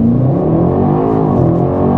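A BMW X5 M F95 SE SUV with a 600 hp engine accelerates hard from a launch, a loud, dense engine roar holding steady and close throughout.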